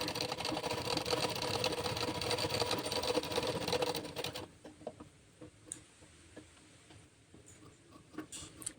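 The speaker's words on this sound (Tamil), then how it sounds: "அரை இன்ச்சுக்கு கீழே ஒரு தையல் போட்டுட்டு அதுக்கப்புறம் வந்து இதை சுற்றியும் தையல் போட்டுக்கிறேன்" A sewing machine stitching blouse fabric runs in a fast, steady, rattling whir for about four seconds, then stops, leaving quiet, scattered clicks and taps of fabric handling.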